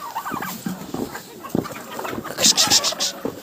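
Young roosters fight in a village poultry yard in a Ukrainian winter, with uneven clucks and scuffling bursts, then a run of shrill, loud squawks near the end, close to the microphone.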